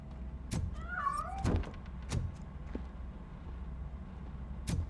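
A cat in the RoboCop: Rogue City video game gives one short meow, then scrambles off in a few sharp scuffs and thumps, close and fairly quiet, with no talking.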